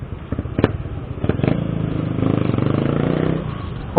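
A small motorcycle engine hums steadily while weaving through busy traffic, with brief clattering spikes and a rising drone near the end, heard up close without talk.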